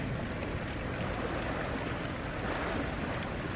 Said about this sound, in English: just hearing the waves, hearing the water around me